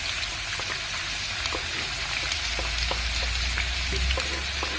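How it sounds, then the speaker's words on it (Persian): Diced onions sauté in hot oil with a dense, even sizzle and scattered light pops, plus a low rumble underneath that grows a little toward the end. "که قشنگ پیازامون تفت بکنیم"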